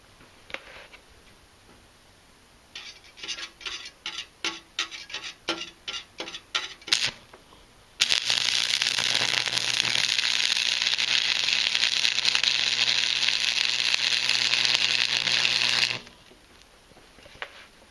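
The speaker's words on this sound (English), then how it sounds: "Let's see whether this first strike will go off." A Campbell Hausfeld WS0990 115-volt stick welder strikes an arc: a few sharp scratching ticks come first, then a loud, steady crackling hiss holds for about eight seconds before cutting off.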